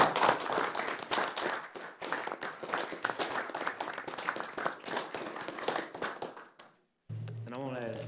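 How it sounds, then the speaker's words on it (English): Round of applause from attendees at a city council meeting in Anderson, a dense crowd of clapping sustained for about seven seconds before cutting off, followed by a voice beginning to speak. "I think that deserves a round of applause."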